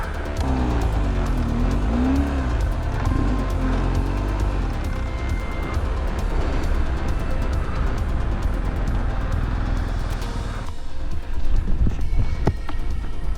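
An off-road motorcycle turning around in deep sand during a Moroccan trail ride, engine revving steadily and loudly throughout, rising and falling in pitch as it works through the sand, with a sharper burst near the end.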